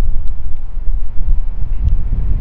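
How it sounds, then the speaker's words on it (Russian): Strong wind buffeting a microphone outdoors on a shore, a steady low roaring rumble that gusts throughout and sits close and loud, with no speech over it. "Ветер такой сильный."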